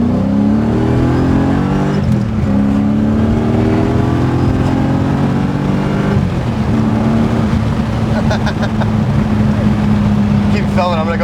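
Homemade V8 engine in a BMW E30 car accelerating through a corner, a loud steady drone rising in pitch, dipping and climbing again, with faint voices in the cabin.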